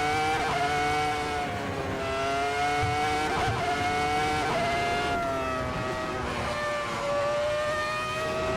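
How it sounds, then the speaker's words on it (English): Simulated 2004 Formula 1 race car in Assetto Corsa, its high-pitched engine wailing continuously with rising and falling revs through gear changes, loud and close, no talk. "here I am making videos on me driving an F1 2004 car."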